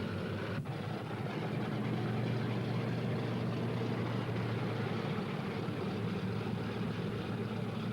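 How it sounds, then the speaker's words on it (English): Engines of a Lockheed P-38 Lightning, a twin-engine WWII fighter, running as it taxis toward the runway for takeoff, a steady, loud propeller drone that holds throughout with no talk. "the engines were started, and each pilot taxied his machine out toward the runway and lined up for takeoff."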